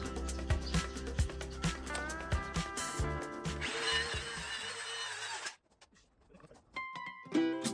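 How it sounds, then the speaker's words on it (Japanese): A power sander works over the wooden surface of a resin table with live-edge wood, a loud continuous grinding rub that shifts in pitch, then drops out and leaves quieter scraping and handling noises. "表面の部分は最後仕上げますが、汚れているのである程度磨いておきます。"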